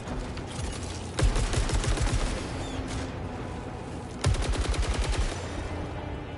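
Gunfire in the video game Saros, a loud rattling machine-gun burst that breaks off, then a second rapid burst several seconds later, each clattering over a steady game background with no talking.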